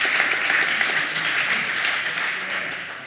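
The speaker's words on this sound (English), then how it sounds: "I just want to have another round of applause for my wonderful panelists before we start." Conference audience at a Student Living in Iberia 2023 panel breaks into a dense round of clapping for the panelists, loud at first and gradually tapering off.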